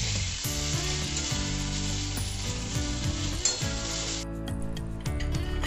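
Papaya and potato pieces fry in hot oil in a kadai, a loud continuous sizzle close by with a persistent humming tone underneath and faint occasional stirring.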